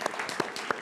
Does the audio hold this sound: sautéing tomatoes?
no